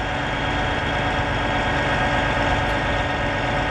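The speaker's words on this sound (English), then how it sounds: "now I'm going to main boom up, I'm going to luff the jib, and I'm also going to add swing into that" Fassi rear-mount 600 crane running hydraulics as the main boom raises, the jib luffs and the crane swings, a steady loud engine and pump drone holding constant throughout with no talk.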